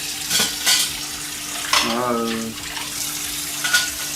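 Dishes are washed at a sink while preparing for a fight in Switzerland. Running water and clinking pots and pans come through close by in short bursts, with a sizzling, stirring texture and a brief tonal squeak.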